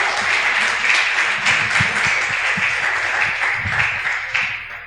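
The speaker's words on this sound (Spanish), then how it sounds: "Denle un aplauso." Steady applause from a church congregation fills the space, a dense, even wash of clapping with a few louder claps and a faint voice underneath, tapering slightly at the end.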